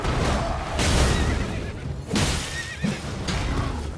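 Horse neighing in the video game Elden Ring, a few loud, close whinnies with wavering pitch over a busy game background of hoof and impact noises.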